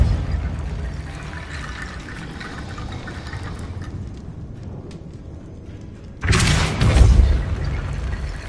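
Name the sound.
Depulso spell effect in Hogwarts Legacy video game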